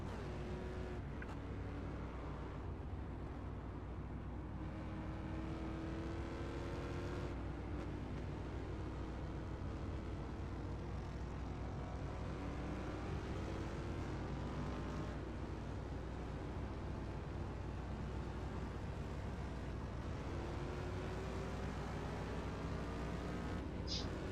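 A race car comes through Woodcote corner toward the start-finish line at the end of a recovery drive to ninth place, its engine a steady, unbroken roar that stays fairly faint at a distance throughout.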